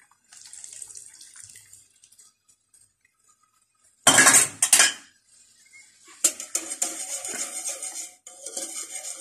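A spoon stirs chicken vegetable soup in a metal pot, giving scattered clinks and scrapes with quiet pauses between them, then a louder clatter and a stretch of busier scraping.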